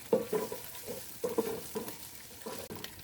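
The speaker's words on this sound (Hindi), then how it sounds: "अदरक को अब हमने लाइट ब्राउन कर लेना है।" Ginger frying in oil for a lentil and bean masala gives a soft, uneven crackle with bursts of stirring and light clatter of a utensil in the pan, fairly close and quiet.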